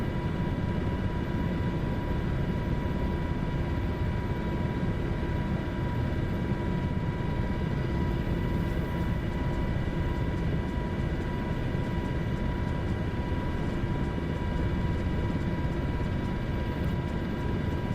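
A helicopter climbs in flight on a round-the-world trip, its engine and rotor making a steady, loud, continuous drone with constant tonal whine throughout, heard from inside the cabin with no talking.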